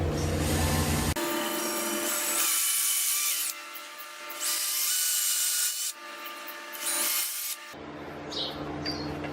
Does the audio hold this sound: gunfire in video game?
no